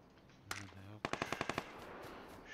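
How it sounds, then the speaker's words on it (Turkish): Rapid automatic gunfire in the PUBG Lite battle royale game: one sharp shot, then a quick burst of about six evenly spaced shots, with a brief voice at the start. "Şuradan da bir ateş sesi geldi."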